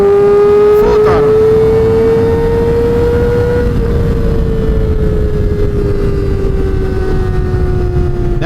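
A motorcycle engine is held at full throttle and roars loudly and steadily close up. After one sharp blip its pitch climbs slowly, then sags and drops back a little.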